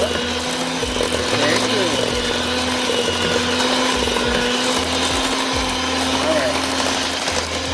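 An electric mixer whirs steadily and loudly as vanilla is blended into oatmeal raisin pecan cookie dough, a continuous motor drone with a brief spoken remark over it.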